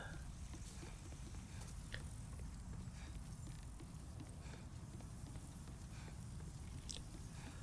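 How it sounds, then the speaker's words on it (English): Steady footsteps of a character walking calmly through Demon's Souls Remastered, a soft repeated clip-clop rhythm of steps sitting low under a constant ambient hum, with no talking. "Calmly walking around in the video game and hearing the footsteps like that, like, is very relaxing."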